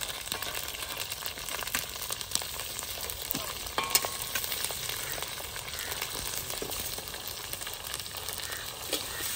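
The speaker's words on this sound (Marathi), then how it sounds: "आता दोडक्याचं ठेचा आपण चांगल्या प्रकारे परतून घ्यायचं आहे" Crushed ridge gourd thecha with green chilli, ginger and garlic paste sautéing in a pan, a dense continuous frying hiss with faint scattered scrapes and crackles, fairly quiet and steady, without any voices.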